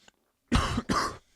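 A man gives two harsh, close coughs in quick succession after a brief silence, loud and alone with no talking over them.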